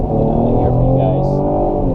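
Cadillac CT6 Platinum sedan with a 2-liter turbo four-cylinder and 8-speed automatic pulling away under acceleration, a steady low engine drone heard from inside the cabin under continuous talking.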